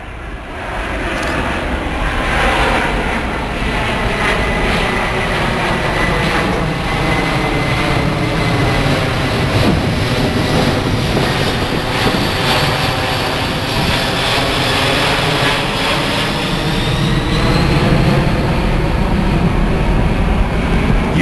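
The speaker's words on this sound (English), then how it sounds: "there's our C-17 in the slow-low mode" A C-17 transport aircraft passes slow and low at an air show with gear and flaps down, its jet engines a loud sustained roar that swells and shifts in pitch as it goes by, with no talk over it.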